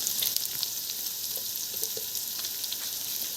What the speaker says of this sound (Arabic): وهفضل اقلب كده في الرز لحد ما ياخد معايا لون